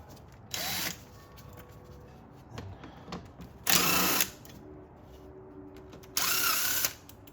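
On a Nissan Frontier engine, 8 and 10 mm bolts are loosened with a ratchet, heard as three separate loud whirring bursts of under a second each, with quieter clicks and handling between them.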